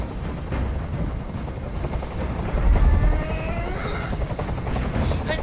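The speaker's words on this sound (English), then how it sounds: "Tell that helicopter to get out of here!" A helicopter hovers nearby during a hostage scene in the video game Detroit: Become Human, a low rumbling drone that swells midway and carries faint whirring sweeps over a busy background.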